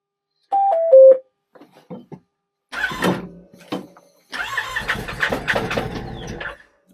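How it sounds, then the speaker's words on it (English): A vehicle engine cranks in the cold, in a few short bursts separated by gaps, then catches and runs roughly for a couple of seconds, loud and close. "It's like it cranks and then it doesn't even want to crank again."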